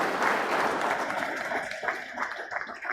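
Audience applause closing a memorial lecture, honoring the speaker; many hands clap together at first, then the sound thins to fewer, more separate claps as it dies down.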